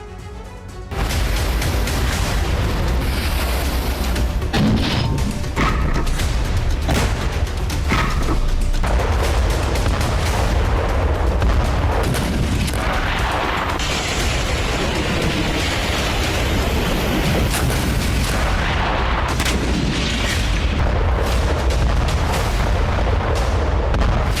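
Artillery and explosive bombardment on Ukraine in wartime, a loud, dense barrage of booms and rumbling blasts that runs nearly continuous, with repeated sharp bursts layered over a heavy low roar.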